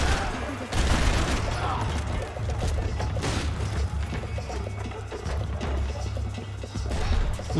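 Video-game gunfire from Max Payne 3 bursts out in rough volleys over a busy game soundscape, loud and close, while someone talks in the clip.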